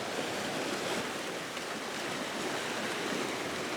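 Water current and waves churn at a river confluence, a steady broadband wash that is fairly faint and distant, with no voices.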